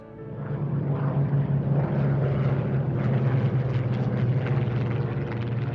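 A World War II German bomber aircraft flies steadily, its propeller engines droning loud and continuous with a deep, even throb.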